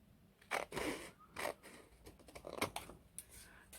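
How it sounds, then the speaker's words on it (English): Scissors snipping through very thin paper while crafting a junk journal tag, a few short crisp cuts close to the microphone, with quiet pauses between them and no talking. "Perhaps I can cut it with my scissors."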